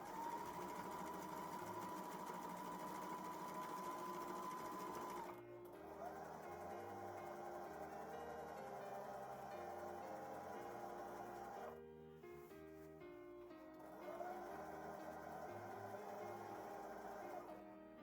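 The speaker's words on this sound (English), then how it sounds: "Next is the fun part of sewing 2 loose stitches across the upper edge of all 4 panels." A sewing machine runs two loose rows of stitches across the upper edge of four fabric panels for a vintage-style Christmas dress. It whirs steadily and close up, with short pauses between runs and no talking.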